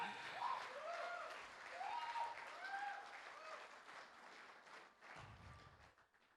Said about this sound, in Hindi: जोरदार तालियां चाहता हूं मैं